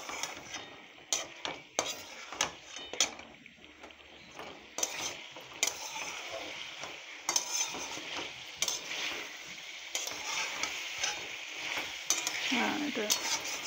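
Poppy seed paste fries in a pan with melon seeds, soft sizzling under intermittent clinks and scrapes of a utensil stirring against the pan, fairly quiet and close.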